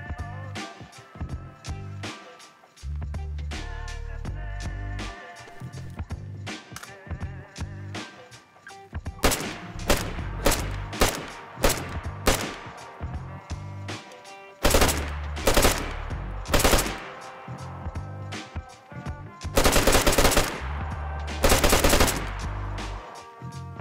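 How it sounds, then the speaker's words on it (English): AUR A1 assault rifle firing in the video game DayZ, loud repeated automatic bursts and single shots separated by brief pauses, close and dominant with no talking. "They've added the AUR A1 assault rifle."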